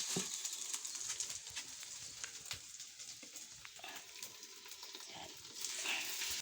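Glutinous rice is stirred in a frying pan, with a continuous soft sizzle and scraping, shuffling stirs across the whole stretch and a short spoken word near the start.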